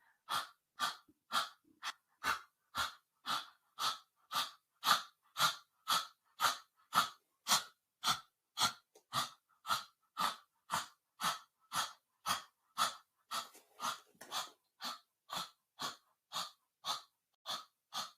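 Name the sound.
exaggerated breathing during yoga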